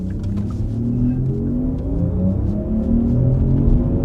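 Synthetic drive sound of a 2025 Porsche Macan EV in sport mode, a steady layered electronic hum with shifting tonal bands that rise and fall as the car pulls, continuous and fairly close inside the cabin.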